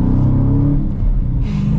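A new manual Dodge Challenger Scat Pack Widebody muscle car accelerates hard, its engine giving a loud, deep, close rumble that climbs briefly in pitch.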